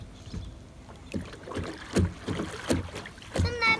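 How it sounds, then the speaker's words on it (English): A kayak rocks on a lake in a series of soft, uneven splashes and sloshes, about eight bursts of water against the hull, close to the microphone with faint wind noise. "You're gonna shake your boat"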